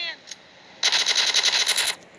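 Rapid automatic gunfire from the GTA video game bursts in loud and close, a sustained rattling volley of more than a dozen shots lasting about a second, after a brief faint sound at the start.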